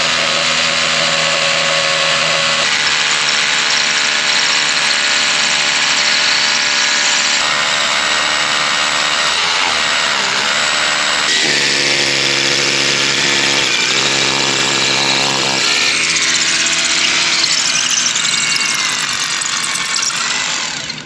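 A loud, continuous mechanical drone of a rock drill boring holes in rock underground, grinding steadily, shifting pitch a few times but never stopping.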